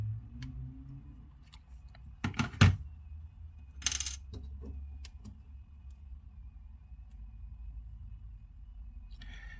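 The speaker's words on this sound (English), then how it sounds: "So we're going to put in the SIM card and we'll just see how easy everything goes." A SIM tray clicks into a Samsung Galaxy Z Fold 3 with a few sharp, close plastic-and-metal taps and a brief rattle amid faint room hum.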